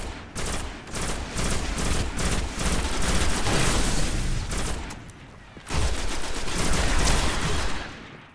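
Gunfire in the shooter game Destiny, a dense burst of rapid automatic shots that pauses briefly and then resumes, loud and close, with no talk over it.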